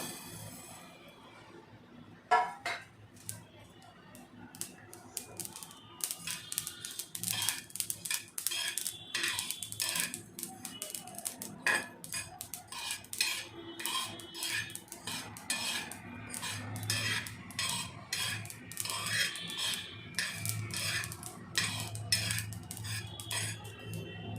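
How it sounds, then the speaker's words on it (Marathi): Sesame seeds roasting in a pan with a spoon scraping and clinking against the metal, a steady busy rattle of stirring that continues throughout, close and fairly loud. "आता आपण याच्यामध्ये तीळ भाजून घेणार आहोत"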